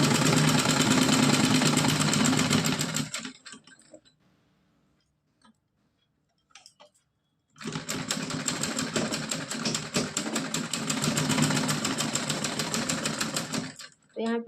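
Domestic sewing machine stitching stretched elastic onto a small cotton dress, loud rapid mechanical chatter in two bursts separated by a few seconds of near silence.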